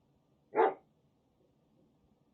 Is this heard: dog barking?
yes